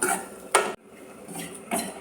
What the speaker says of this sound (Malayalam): ഇനി നാളികേരം നന്നായിട്ടൊന്ന് വറുത്തെടുക്കണം